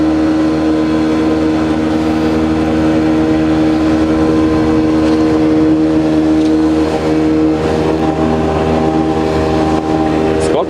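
An outboard motor on a Vydra 470 inflatable boat runs at full throttle, a loud steady engine tone holding for several seconds, then rising in pitch near the end.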